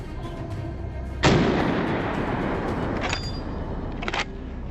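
A rifle shot fired during a wild boar hunt in snowy country cracks out as one loud, sharp report with a long rolling decay, followed by a couple of fainter distant pops.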